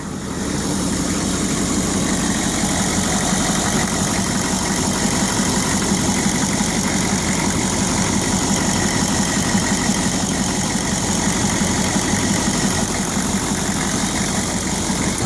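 Chevy 6.5 diesel engine idling steadily just after starting, a constant, loud, even rumble with a mechanical hum, heard close and uninterrupted throughout.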